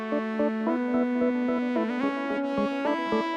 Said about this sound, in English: there's a little fuzziness from the distortion and the phaser